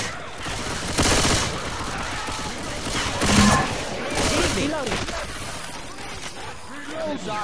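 Rapid gunfire in a Left 4 Dead 2 match, sustained overlapping volleys swelling and easing across the scene, with players shouting and talking throughout.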